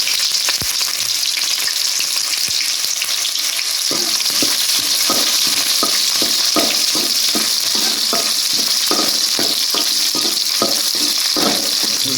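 Oil sizzles and crackles loudly and continuously in a pan while tempering spices for chicken fry, with scraping stirs and popping bursts throughout.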